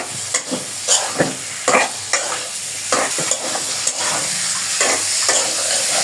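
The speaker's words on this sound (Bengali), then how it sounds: "একটা আলু দিয়ে এখন তরকারিটাকে সুন্দরভাবে কষাবো" Curry of tomato, steamed vegetable stems and potato being stirred in a pan, with steady sizzling frying and repeated scraping stir strokes close by, no talk.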